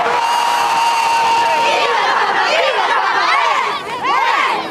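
A huge crowd of some 300,000 in St. Peter's Square, Rome, celebrating the papal election with loud continuous cheering, whistles and rising shouts, close and dense throughout.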